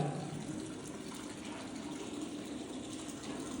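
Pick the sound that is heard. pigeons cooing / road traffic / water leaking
water leaking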